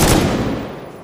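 Video game gunfire: one loud, heavy blast at close range, then a rumbling tail that fades over about a second.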